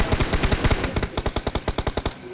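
Rapid automatic gunfire in a shooter video game: a close, loud, continuous string of about twenty evenly spaced shots, sharp and punchy, with no talking over it.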